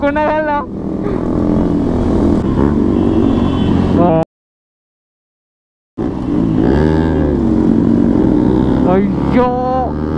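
Motorcycles fitted with loud aftermarket exhausts ride together through Nalgonda streets on a group meet-up, engines revving and droning up close, broken by a short silent gap before the roar resumes.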